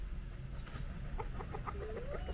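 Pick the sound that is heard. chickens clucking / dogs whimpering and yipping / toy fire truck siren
chickens clucking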